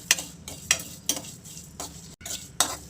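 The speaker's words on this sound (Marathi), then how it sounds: "आता मी ही मसाला पण भाजून घेते." Masala spices dry-roasting in a pan, stirred with a utensil in a steady rhythm of scraping strokes about twice a second, each with a light rustle, close and fairly loud with no talk.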